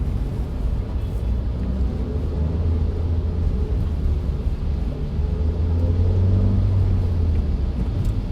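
Continuous road traffic moving after a signal clears on a Monday, a steady low rumble of passing vehicles with a louder swell near the end, with no talking.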